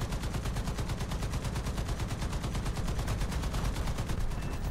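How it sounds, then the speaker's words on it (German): Rapid continuous machine-gun fire from the War Thunder combat game, a dense steady stream of fast regular bursts, loud and close without pause. "ich schieß nicht auf dich, Kumpel, ich schieß auf den"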